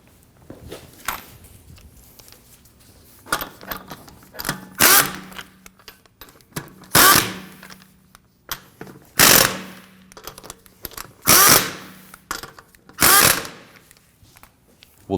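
Power tool snugging down wheel lug nuts on a Honda Pilot: about six short, sharp bursts of impact rattle spaced a second or two apart, close and loud against a quiet background.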